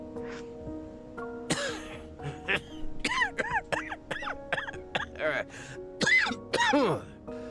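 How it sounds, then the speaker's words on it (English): A feeble coughing fit in an audio drama, a run of short rasping coughs with a strained, groaning quality, moderately close and set over a low background hum. "a bone chilling laughter sounds, followed by a feeble coughing fit"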